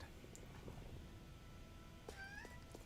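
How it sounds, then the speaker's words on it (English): A cat meows indoors, a faint short call early on and a clearer rising meow near the end over a steady low hum. "I don't know why you're meowing at the closet"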